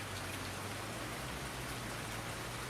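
Steady, even rain patters down in the Farming Simulator 19 game, a continuous soft hiss with no voices or other sounds over it.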